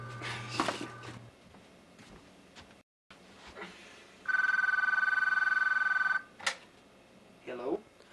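A telephone rings once in a steady electronic tone lasting nearly two seconds, set among household sounds, a short chirp and a brief spoken exclamation before and after.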